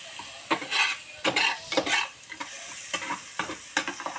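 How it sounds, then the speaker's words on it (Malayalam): Ginger and garlic stirred in a hot pan, with sharp irregular scrapes of a utensil against metal over a steady sizzle, close and fairly loud. "എന്നാൽ നമുക്കിത് ആദ്യം മിക്സ് ആക്കാം നല്ലപോലെ. ഇഞ്ചി വെളുത്തുള്ളിയാണ്."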